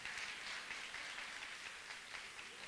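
Audience applause at a talk on Black women building generational wealth, a steady, fairly faint wash of many hands clapping with no voices on top.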